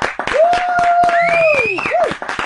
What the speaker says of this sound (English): She gets the slow clap.